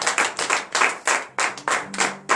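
Rhythmic group clapping in a church during a morning prayer service, loud steady beats in a regular pulse, close and bright, with a faint held tone underneath.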